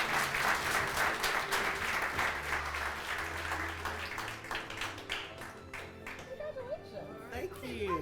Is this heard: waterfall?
no